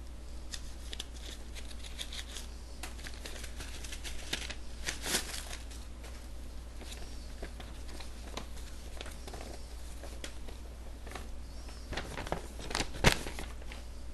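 Quiet papery snips and rustles, scissors cutting open junk-mail envelopes in short bursts, with a few sharper clicks and a low steady hum beneath.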